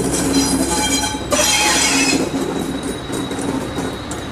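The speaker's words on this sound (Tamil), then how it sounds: "சட்டென்று பிரேக் போட்டு ரயிலை நிறுத்தும் போது உண்டாகும் கடபுட சத்தங்களும் ரயிலில் சக்கரங்கள் வீணிடும் சத்தங்களும் கலந்து கேட்டன" A train braking hard to a sudden stop, with loud steady rumble and clatter of railway cars under a sustained high metallic squeal of wheels grinding on the rails, close and continuous with no talking.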